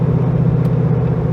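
A truck's engine pulls hard up to interstate speed at around 4,100 RPM, fitted with a custom true dual exhaust; a steady, loud, low droning rumble holds throughout with no talk.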